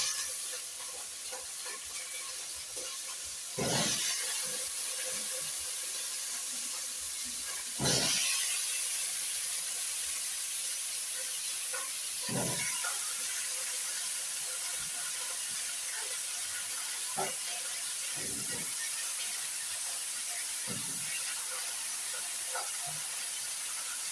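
Potatoes are dropped into golden brown onions in a hot pan for mukimo, giving a steady close sizzle with a few louder bursts of crackling and stirring scrapes along the way.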